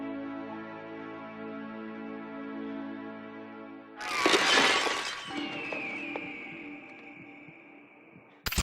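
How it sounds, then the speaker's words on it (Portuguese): A ghostly shadow bursts apart in a horror-film effect: a low sustained droning tone gives way to a sudden loud glassy shatter and crash, then a thin ringing shimmer that fades out before a sharp final click. "em segundos vira uma sombra que se estilhaça no ar"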